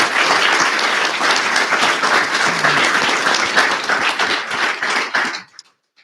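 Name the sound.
audience applause for conference panelists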